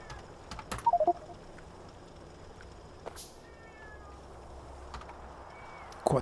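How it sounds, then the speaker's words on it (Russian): A cat yowls indoors in a few loud, drawn-out cries early on and again at the end, standing out over quiet room noise. "Кот орёт."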